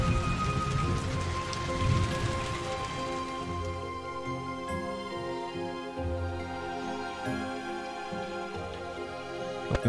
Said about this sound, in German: Der Regen ist mir ein bisschen laut.